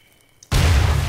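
A bomb explodes in Half-Life 2: after near silence and a small click, a single loud, close blast bursts in and sustains a heavy, rumbling roar.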